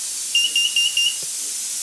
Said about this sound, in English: I'm pressing the test button on my carbon monoxide alarm, which shows that it's working